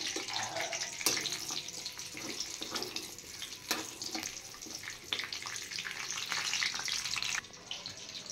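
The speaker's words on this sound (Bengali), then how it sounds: "এবার এই তেলে আমি দিয়ে দেব গোটা কয়েক রসুন। এই রসুনগুলো ফ্রাই করে নেব ভালো করে।" Garlic cloves fry in hot oil in a home kitchen, a steady, moderately loud hiss and sizzle with occasional sharp pops and crackles, ending with a slight drop near the end, with no talk.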